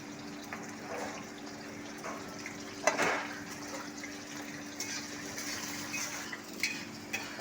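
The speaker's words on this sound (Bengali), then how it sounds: "পটল আর পেঁপে একসাথে আমি তেলে দিয়ে দেবো।" Pointed gourd and papaya frying in hot oil, a steady soft sizzle with a sharper crackle burst as the pieces go in, then continuing low and even.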